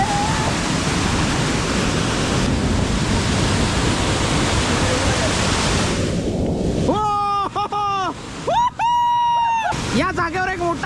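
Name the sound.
waterfall flowing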